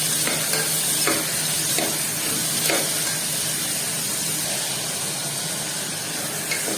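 Fenugreek leaves with onion and green chilli sautéing in a pan, giving a steady close hiss and sizzle with occasional ladle scrapes against the pan, alone without talk.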